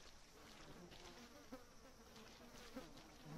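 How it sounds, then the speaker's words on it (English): Bees buzzing steadily in the dark Resident Evil 7 game, a continuous insect drone holding at an even level for a few seconds with no talk over it. "Oh god, there's some bees."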